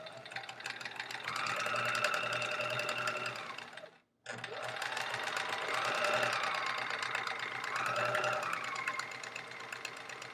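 A sewing machine stitches fabric in a steady, fast mechanical whir with rhythmic needle knocking. It runs loud and close, stops briefly, then starts again with no talking.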